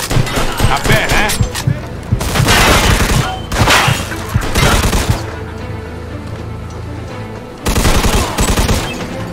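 A Mafia 2 video game shootout erupts in loud bursts of rapid gunfire, machine-gun volleys and sharp single shots with booms and impacts, close and intense, interrupted by brief lulls.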